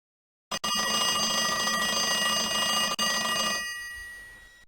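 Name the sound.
school bell ringing in Arthur's Teacher Trouble video game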